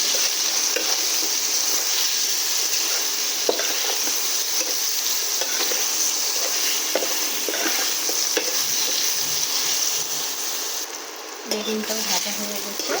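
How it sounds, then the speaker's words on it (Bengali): Vegetables with salt and turmeric fry in a hot pan with a loud, continuous hiss and crackle of oil. The sizzle holds steady for the whole stretch, with faint stirring underneath. "একটু ভেজে নেব।"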